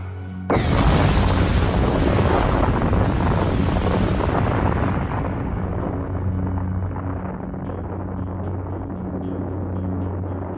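A castle is destroyed in an anime by a sudden, massive explosion that bursts in loud and broadband, then rolls on as a long, dense roar and rumble that slowly fades.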